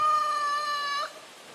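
A rooster crows once, a long drawn-out harmonic call lasting about a second, with faint fowl noise trailing off afterward.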